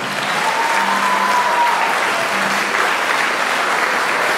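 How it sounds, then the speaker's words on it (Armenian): Warm, sustained applause from wedding guests honoring newlyweds Arman and Ruzanna fills the room, steady and dense throughout, with a faint tonal note drifting above the clapping. "մեր ջերմ ու բարձր ծափարություններ արդեն մեր նորացած զույգի, Արման և Ռուսանա զույգի պատվին մենք չինգարով ծափարենք"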